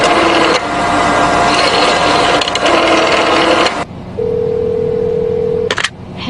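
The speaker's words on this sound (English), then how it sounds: "You may find out the time by dialing Meridian 71212." Telephone dialing in an old radio drama: a loud, noisy line gives way to a steady telephone tone, then a brief click at the end.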